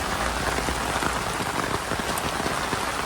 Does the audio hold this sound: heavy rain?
yes